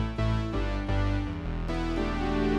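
A Casio CT-X keyboard plays a tone with a fast, percussive attack. Several sustained harmonic notes change every half second or so, sounding close and clear with no voices.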